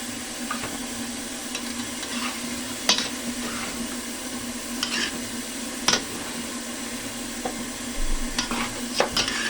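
Vegetables, string beans and okra, being stirred into a simmering pot of chicken sinigang, with soft scraping and clinking stir strokes at irregular intervals over a faint bubbling background.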